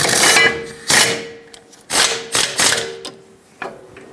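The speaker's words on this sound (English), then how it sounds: "Let's snug them both up, and the torque for both of these is 74 foot-pounds." A wrench snugs and torques the rear wheel hub bolts on a 2008-2020 Dodge Grand Caravan, making a series of close, loud ratcheting clicks in short irregular bursts.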